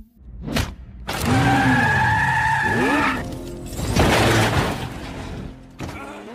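A motorbike makes its escape in a zombie action film: loud engine revs climb and drop in pitch alongside sharp tire skids and a crash-like burst, close and dominant throughout.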